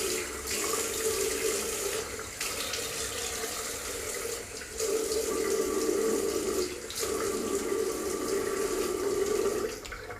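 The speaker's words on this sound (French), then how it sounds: "Donc, un coup d'eau." Tap water runs steadily into a sink for rinsing after shaving, a close continuous hiss and splash with slight surges and dips and no talking.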